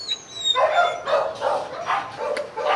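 Male bobtail dogs bark in a rapid run of five or six close, fairly loud barks mixed with yips, with short gaps between them.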